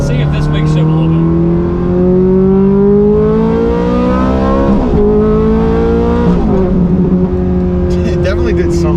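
A Ferrari F430 fitted with a loud Fabspeed exhaust revs hard and close, its engine note climbing steadily, dipping briefly and rising again, with talk running over it throughout.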